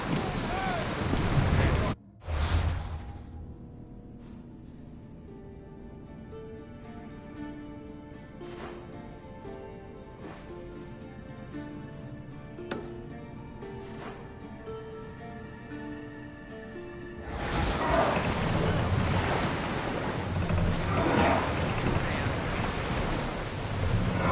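A ship sails the open sea in Assassin's Creed Odyssey: loud wave wash and wind open the scene, give way to quieter music, then the surging water and gusts return strongly for the final stretch.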